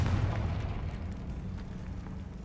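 A Confringo blasting spell goes off in Hogwarts Legacy, a single loud, low, rumbling blast that rolls on and slowly fades over a couple of seconds.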